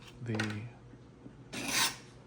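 Old adhesive and cut edges are scraped from a Profoto B1 battery casing: two close rasping scrapes, a short one first and a stronger one about a second later, over a faint background hum, with a brief voice at the start.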